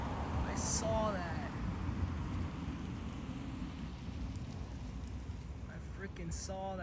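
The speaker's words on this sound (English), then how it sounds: "That's a gigantic thunderstorm over there." A distant thunderstorm rumbles with steady rain, a low continuous roar under the night air, with a few brief crackling bursts standing out; a voice can be heard faintly in the background.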